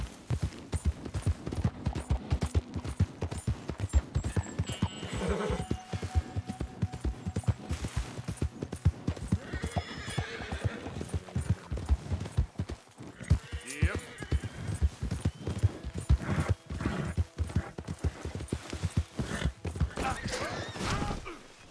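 A horse gallops in the video game Red Dead Redemption 2, with rapid, continuous hoofbeats pounding throughout, broken by brief whinnies and other game sounds, and a voice occasionally speaking over the action.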